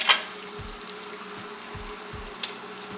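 Onions sauté in a pan for restaurant-style chilli chicken, giving a steady, close hiss with a few soft low knocks from stirring.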